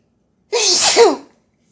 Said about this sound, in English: That damn Mancera got me sneezing.